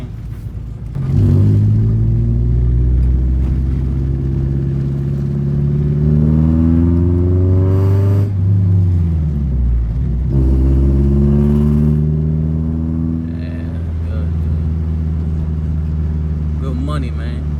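Manual-transmission car driven during stick-shift practice, its engine rising and falling in pitch through several rev-ups and gear changes, loud and close, with occasional talk over it.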